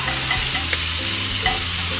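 Bacon crisping with Brussels sprouts in a pan, a loud continuous sizzle close up with occasional stirring scrapes and no talk.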